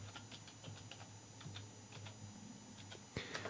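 Rapid clicking of computer keys while entering a command in AutoCAD, with a steady run of light taps and a slightly louder burst near the end over a faint hum.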